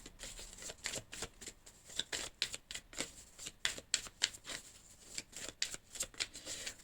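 A deck of tarot cards being shuffled and cut, with rapid, rhythmic riffling flutters and crisp card snaps repeating close by throughout, and no talking.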